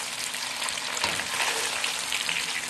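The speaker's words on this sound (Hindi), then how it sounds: "हल्का सा शैलो फ्राई किया है।" Handi kebabs shallow fry in a pan, giving a dense, continuous close-up sizzle and crackle of hot oil with no talking.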